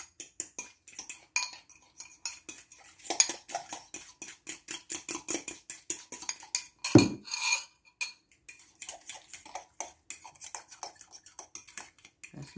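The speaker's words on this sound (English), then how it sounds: "bit of garlic powder, and I mix it up" Salad dressing with garlic powder is stirred in a dish. Rhythmic, quiet scraping and clinking of a utensil repeat steadily, with one brief louder rattle midway.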